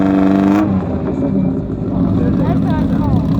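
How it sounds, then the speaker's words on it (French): A Caterham race car with a 2-litre Ford Pinto engine revs and pulls away at a historic hill climb, the engine note rising and then fading while a commentator talks over it. "replaqué Caterham, moteur Ford Pinto 2 litres 600 de 80"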